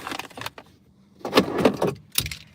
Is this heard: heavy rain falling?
no